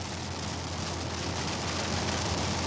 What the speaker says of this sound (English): It is only 8:30 and it's pouring down rain